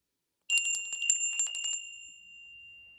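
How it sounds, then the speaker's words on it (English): Meditation bell struck at the start of a breathing session, a bright ringing onset that rings on and slowly fades into a sustained, quiet metallic tone. "I'll ring the bell"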